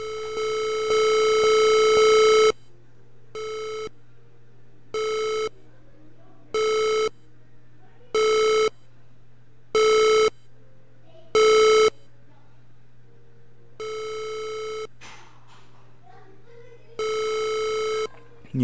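Color Computer running a BASIC program plays a run of electronic beep tones: a long opening note, then seven short evenly spaced beeps and a few longer ones, clean and loud over a low steady hum.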